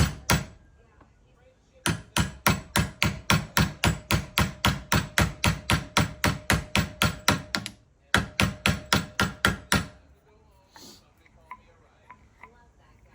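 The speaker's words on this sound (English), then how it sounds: "touch right on the face of the flange that goes around this and tap it right in there" A hammer taps a brake caliper pin boot into its flange on a 2008-2014 GMC Yukon Denali Hybrid truck, about thirty sharp, evenly spaced strikes with a short pause partway through, close up and loud.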